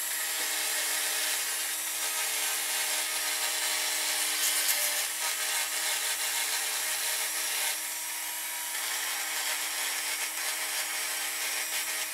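A small hand-held tool smooths the edges of a carved wooden buffalo head, producing a continuous, fairly loud grinding whir with slight shifts in pitch as it works the wood, no talking.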